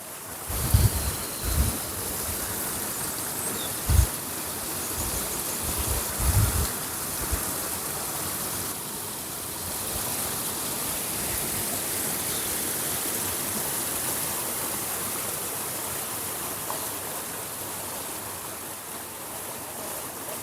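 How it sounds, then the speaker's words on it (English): Water spills over a small weir across a stream, a steady, even rushing wash that runs unbroken throughout, with a few soft low thumps early on. "they've created a little weir across the stream."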